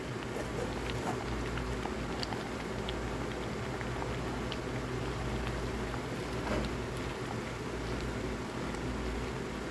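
Masoor lentil dal boils in a pot as washed jute leaves go in, making a constant bubbling, crackling simmer with soft patter, moderately loud and close, with no talk.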